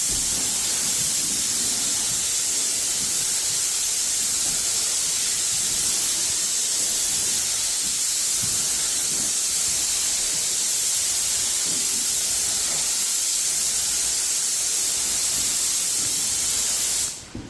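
A Graco Magnum Pro X17 paint sprayer gives off a loud, steady hiss of airless spray, broad and constant for many seconds close to the listener, then cutting off abruptly at the end, with no talking.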